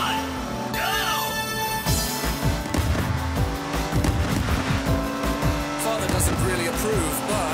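Arcade race cars launch at the start of a Hotshot Racing race on Nintendo Switch, with roaring engines, tire squeal and skids under game music, all dense and continuous.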